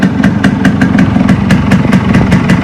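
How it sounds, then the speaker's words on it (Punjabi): A Yamaha RX100 two-stroke motorcycle idles loudly and close up, its engine beating in a quick, even rhythm of sharp exhaust pops over a throaty low hum. "ਮੋਟਰਸਾਈਕਲ ਦੀ ਸਟਾਰਟਿੰਗ ਦੇਖਿਓ ਬਹੁਤ ਘੈਂਟ ਸਟਾਰਟਿੰਗ ਆ ਤੇ ਆਵਾਜ਼ ਬਹੁਤ ਵਧੀਆ"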